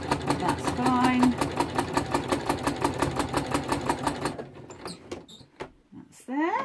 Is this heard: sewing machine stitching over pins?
yes